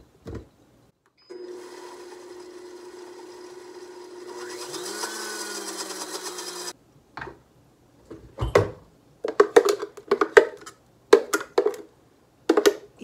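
A blender motor whirs steadily for about five seconds while mixing dairy-free ranch dressing in a small jar, its pitch shifting as it runs, then stops and gives way to scattered clinks and taps.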